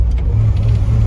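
Engine of a 1960 Chevrolet Impala with a three-on-the-tree column shift, a steady, close low rumble while driving, brief and uninterrupted.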